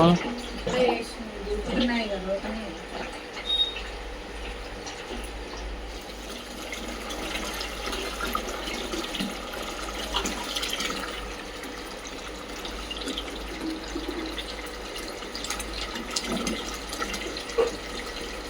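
Tap water runs into bottles in a village home, a steady soft watery wash under near, ongoing conversation for most of the stretch.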